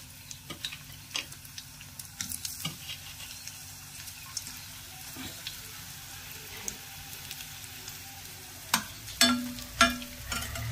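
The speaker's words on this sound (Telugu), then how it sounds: "ఇప్పుడు నేను వడియాలు వేయించుతున్నాను" Vadiyalu, sun-dried fritters, fry in hot oil with a soft, steady crackle close by, broken by a few sharper clicks and taps of stirring, louder near the end.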